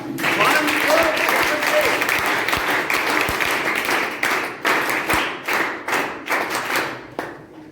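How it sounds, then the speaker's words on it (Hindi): An audience applauds at an event with thick, continuous clapping and a few heavy thumps. It breaks into scattered individual claps toward the end, with some speech in the background. "हाँ, जोरदार ताली जी।"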